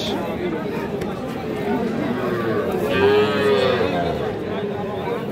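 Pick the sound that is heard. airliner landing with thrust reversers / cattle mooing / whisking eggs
cattle mooing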